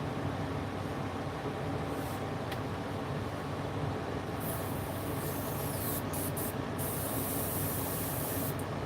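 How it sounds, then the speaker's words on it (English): Continuous hiss of an airbrush spraying plastic model kit parts up close, steady throughout with a few brief bursts of brighter, sharper hissing. "spray the inside just in case it's visible from another side"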